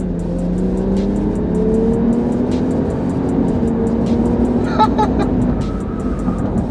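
A 2025 Ram 1500 Tungsten pickup truck accelerates hard, its engine note climbing steadily in pitch as it pulls, loud and close, with brief higher-pitched mechanical whines near the end.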